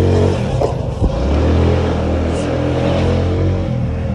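A moped engine drones steadily as it rides through a church sanctuary, loud and close, with a low rumbling tone, a brief rev near the start and continuous motor noise throughout.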